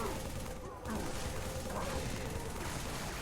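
Assault rifle fire in Halo 3 multiplayer, a steady rapid stream of muffled shots under game noise and a talking voice, with a brief dip in the middle.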